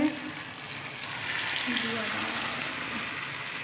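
Prawn head fat from giant freshwater prawns hits fried onions in a hot pan, releasing a loud, steady sizzle with stirring, close by and continuous with no voice over it.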